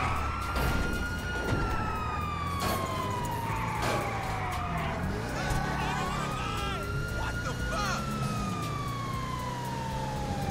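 Police car siren in the video game GTA 5 Online, wailing loudly and sweeping up and down throughout, with other game sounds mixed in beneath it.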